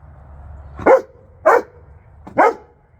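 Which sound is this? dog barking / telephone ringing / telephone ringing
dog barking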